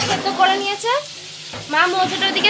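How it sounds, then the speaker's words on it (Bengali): Prawns fry in a home kitchen pan alongside banana flower, a steady hissing sizzle with a sharp burst midway as food or water hits the oil, with voices talking over it. "এদিকে মা চিংড়ি ভাজছে"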